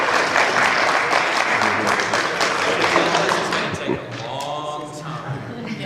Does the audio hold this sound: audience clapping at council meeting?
yes